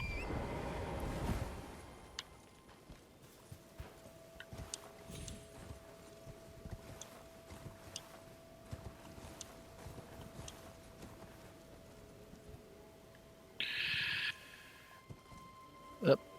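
A horse galloping in Elden Ring: faint, rhythmic hoofbeats under a quiet game soundscape, with a few louder bursts and occasional voice.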